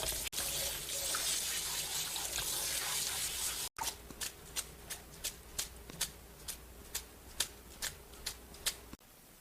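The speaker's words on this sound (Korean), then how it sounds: "찬물에 바락바락 문질러줘요." Cooked noodles for Korean bibim-guksu are rinsed under a running cold-water tap and rubbed vigorously by hand, giving a steady splashing stream followed by a regular series of squelching rubs, close and with no talk.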